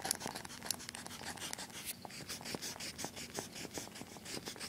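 An eraser rubs back and forth on drawing paper in quick, soft, scratchy strokes, close and faint, repeating in a brisk uneven rhythm without talk.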